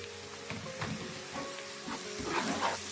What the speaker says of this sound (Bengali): জিরা বাটা সবগুলো একসাথে ভেজে নিচ্ছি